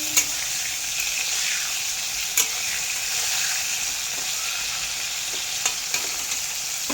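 Prawns frying in a pan for a Bengali malai curry, a steady bright sizzle with occasional soft stirring clicks, close and fairly quiet, no talking.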